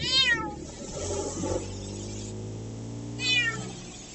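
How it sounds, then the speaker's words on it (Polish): A cat meows twice, one loud call at the start and another near the end, over a quiet hum with no talking. "To trochę inaczej miauczy."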